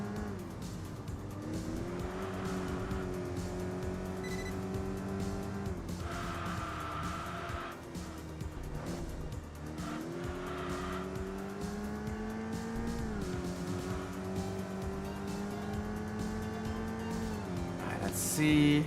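A racing car in Enthusia Professional Racing revs steadily, its engine pitch rising and dropping as it brakes and shifts down through the gears, with a brief tire squeal near the end.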